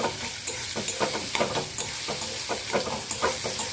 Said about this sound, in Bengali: ভেজে নেবো, লাল লাল করে একটু ভেজে নেবো এটাকে।